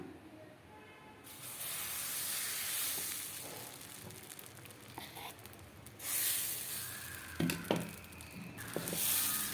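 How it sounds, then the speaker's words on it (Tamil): Appam batter poured into a heated appam pan on the stove gives a steady broad hiss and sizzle that swells and fades over several seconds, with a few soft clinks and a faint voice in the background. "ஆப்பச்சட்டி அடுப்பில் வச்சுருக்குறோம், காஞ்சிடுச்சு. மாவு எடுத்து ஊற்றிடலாமா?"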